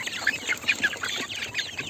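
Desi chickens clucking as a hungry flock gathers around feeders at feeding time, several birds calling in short overlapping clucks close by.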